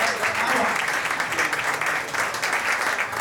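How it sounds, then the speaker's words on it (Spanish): Steady, dense applause from an audience fills the whole stretch, loud and continuous with no pauses. "el aplauso para ustedes, que se vale."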